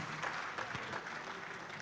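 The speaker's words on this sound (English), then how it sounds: "a round of applause for women of the Niger Delta" Audience at a Niger Delta book unveiling breaks into sustained applause, a dense patter of many hands heard from a moderate distance at fairly low level, without voices over it.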